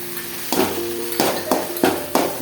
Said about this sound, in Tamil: இஞ்சி பூண்டு சேர்த்துட்டு நல்லா வணக்கி விட்டுக்கலாம்